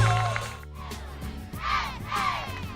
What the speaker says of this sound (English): Let's get a big round of applause for all of our nominees.